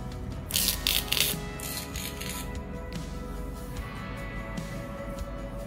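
Adhesive tape is ripped into strips for taping down watercolour paper, two loud close ripping bursts near the start over steady background noise, then quieter handling.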